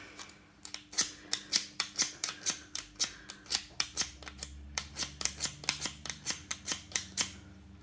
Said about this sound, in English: To start with, I like to sharpen my snips.